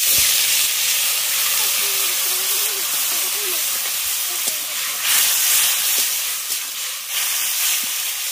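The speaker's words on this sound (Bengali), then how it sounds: "এবার অল্প পরিমাণে এর মধ্যে জল দিয়ে দিচ্ছি" Water splashes into a hot pan of frying banana flower with potatoes, raising a steady close hiss and sizzle of steam that continues throughout with small spikes.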